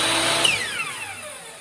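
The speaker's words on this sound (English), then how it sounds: "Most miter saws are this way, so you turn it on" A miter saw motor gives a loud, close, high whine whose pitch slides steadily downward as the blade spins, alone with no speech.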